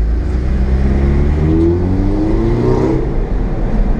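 An Audi TTS and a Camaro rev their engines inside a tunnel, producing a loud, continuous echoing roar with rising and falling pitch sweeps. No one speaks over it.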